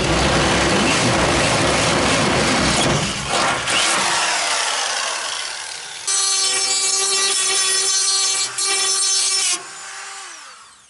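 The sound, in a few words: power drill drilling holes in truck bed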